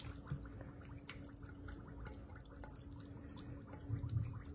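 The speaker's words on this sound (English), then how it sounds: "now I'm going to add the wet ingredients and the cornmeal mush to the dry" Wet ingredients and cornmeal mush poured into a bowl of dry ingredients for corn bread, a soft, steady wet pouring with faint drips and gurgles, close and quiet, with no talking.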